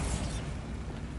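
A Bombarda spell blast in Hogwarts Legacy, a loud, dense rumbling explosion that fills the whole moment and trails off slightly at the end, with no voices.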